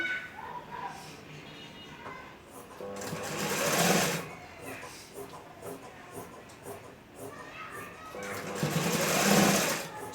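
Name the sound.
sewing machine stitching kunchigi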